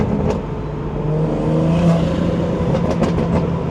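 BMW 340i with the B58 engine accelerating on the road, a loud steady intake and engine roar rising gradually from inside the car, with continuous road and wind noise beneath and no talking.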